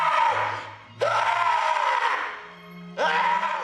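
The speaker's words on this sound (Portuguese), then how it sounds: "E aí ele fica gritando, por quê? Porque o Howard cortou a língua dele, né, aquele grito desesperador." A man in the horror film Tusk, his tongue cut out, lets out desperate, wordless screams: three long, loud, strained wails close up, each breaking off before the next begins.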